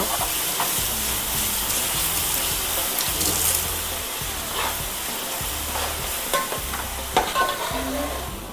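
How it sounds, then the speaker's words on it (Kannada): Ginger garlic paste fries in a pan for a fish curry, giving a constant close sizzle with scraping stirs and occasional spatula knocks, steady throughout and free of speech. "ಶುಂಠಿ ಬೆಳ್ಳುಳ್ಳಿ ಪೇಸ್ಟು ಹಾಕ್ಬಿಟ್ಟು ಈ ಥರ ಫ್ರೈ ಇದು ಮಾಡಿ ಹಸಿ ವಾಸನೆ ಹೋಗೋವರೆಗೂ"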